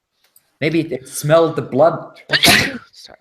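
A single sharp sneeze bursts out between stretches of conversation at a tabletop role-playing session, close and loud, with people talking before and after it.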